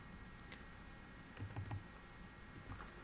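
Keystrokes on a computer keyboard while router commands are entered, a few faint scattered clicks with a short cluster of taps near the middle, against a low background hum, no talking.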